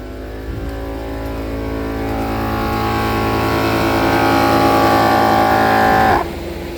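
Lasfit four-tire inflator/deflator system pumping air into all four tires toward 48 psi: a steady, loud motorized drone with a rising pitch, cutting off abruptly near the end.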